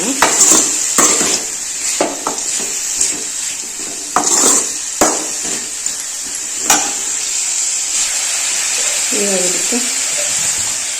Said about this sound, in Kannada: ಈ ಥರ ಒಂದು ರೋಸ್ಟ್ ಆದಮೇಲೆ ಕಟ್ ಮಾಡಿ ಇಟ್ಕೊಂಡಿರೋ ಟೊಮೆಟೊ ಹಾಕ್ಬಿಡೋಣ